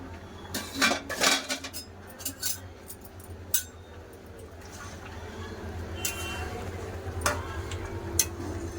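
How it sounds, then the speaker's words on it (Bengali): A lid comes off a pot of coconut ghugni with a cluster of metallic clatters and clinks near the start, followed by quieter occasional taps over a low, steady background hum. "চাপাটা খুলে দেখে নেবো"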